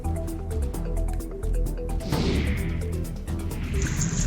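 Floodwater pours hard through breaches in a leaking river embankment, a steady loud rushing and splashing that surges louder partway through, with no voices over it.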